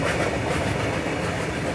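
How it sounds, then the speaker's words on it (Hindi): Goods train running parallel to and overtaking the Secunderabad–Hazrat Nizamuddin Duronto Express, a loud continuous rumble of rolling wagons with rhythmic wheel clatter, heard up close with no voices. "गुड्स ट्रेन पैरेलली ओवरटेक करके जा रही है अपने दुरंतो एक्सप्रेस को।"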